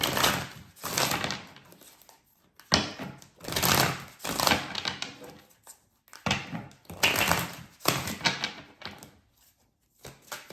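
Tarot cards are pulled and shuffled from a deck in a series of close, crisp papery riffling bursts separated by brief pauses.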